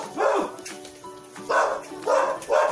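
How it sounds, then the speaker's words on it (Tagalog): A dog barks four times in an uneven rhythm, each bark sharp and fairly close, with quiet pauses between them. "Tahol ng tahol si Milo."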